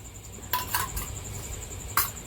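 A metal spoon clinks and scrapes against a bowl holding leftover sauce from chow mein, a few sharp close knocks and scrapes followed by a single louder clink, with no voices.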